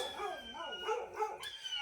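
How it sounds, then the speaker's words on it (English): Several dogs bark and yip close by in a short burst, with irregular overlapping calls and no talking. "Well, you can hear my dogs."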